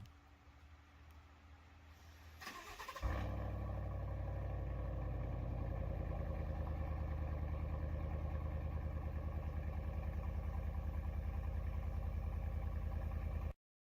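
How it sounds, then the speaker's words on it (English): Truck engine in Arma Reforger idling with a steady low rumble and faint clatter, starting up abruptly after a few seconds of quieter background and holding loud and even until it cuts off. "Listen to this truck and tell me this will not sound fucking good."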